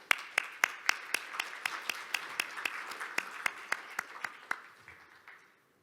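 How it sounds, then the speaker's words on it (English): Conference audience applause welcoming an economist onstage, sharp distinct claps at a brisk regular rhythm, fairly sparse and moderately near, fading out over the last second. "Marcus Noland with a round of applause"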